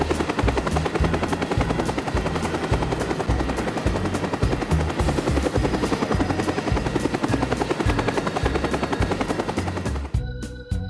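A helicopter thunders close by, its rotor blades chopping in a fast, loud, rhythmic beat that stays steady before abruptly fading at the end.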